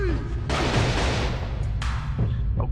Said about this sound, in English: we're gonna use the machine gun for a while